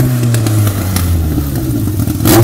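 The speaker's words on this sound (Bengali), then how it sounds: "দেখো গাইজ, এটি হলো একটি মোটর বাইক" A toy motorbike gives a loud, steady electronic engine hum with a low drone and rattly clatter, ending in a brief rise in pitch.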